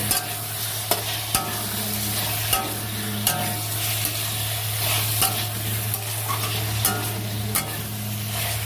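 Potatoes stir-fried in a hot pan, a continuous sizzle broken by regular sharp scrapes and knocks of the spatula, close and loud, with no talking.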